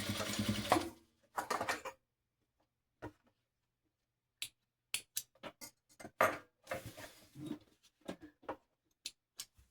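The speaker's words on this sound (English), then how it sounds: "I sewed a 1/4 of an inch on each side of the line." A sewing machine stitches a quarter-inch seam using a quarter-inch presser foot, heard as short separate bursts of fast mechanical whirring and clicking with quiet gaps between them, close and fairly soft.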